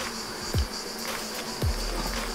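Honeybees buzz in a steady, close hum around an opened hive, with a couple of brief thuds or knocks breaking through the drone.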